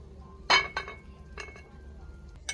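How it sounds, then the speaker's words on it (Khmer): Boiled pork is scooped from a pot onto a dish, giving a sharp metallic clink of utensil against cookware followed by a few lighter clinks and taps, close and otherwise quiet. "ចាសាច់របស់យើងឥឡូវបានឆ្អិនហើយយើងធ្វើការស្រង់យកមកដាក់ចានមក"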